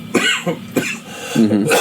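A commentator at a wrestling broadcast coughs several times up close, sharp throaty bursts spaced unevenly with a longer rasping cough at the end.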